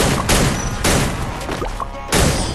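Bursts of gunfire from a Free Fire match, three loud volleys of rapid shots separated by brief lulls, close and sharp with no talking.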